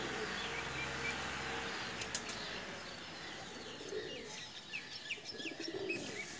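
A Teddy female Pakistani pigeon coos softly in low repeated murmurs, with brief wing flutters and faint chirps from other birds nearby against steady background hiss.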